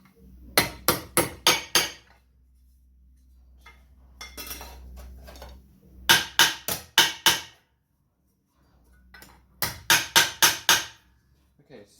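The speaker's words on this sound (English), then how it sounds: "Get a hammer and let's dress that bit back." Hammer blows ring out on Porsche 924 rear sill metal as it is dressed back, landing in three quick clusters of four or five sharp metallic strikes, with quieter handling noise in the gaps.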